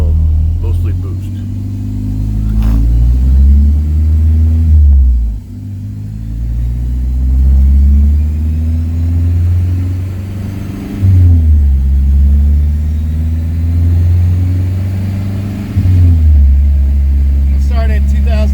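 A Dodge Omni GLHS engine runs on a dyno, revving up in three long loud sweeps that climb steadily in pitch, each ending in a sharp drop before the next pull, with a heavy rumbling drone throughout.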